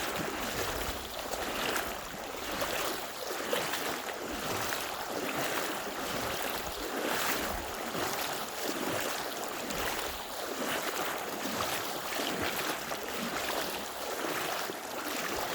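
Flash-flood river water rushes and churns around a person's feet as they stand in the current, a loud, close, continuous turbulent roar with surging swells and no speech.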